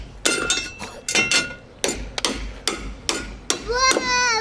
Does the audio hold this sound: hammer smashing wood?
yes